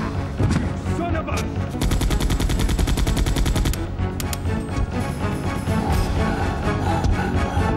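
Rapid bursts of gunfire in the zombie game Resident Evil 2, a fast automatic stream of loud, evenly spaced shots dominating the middle stretch, with single sharp shots and game sounds around it.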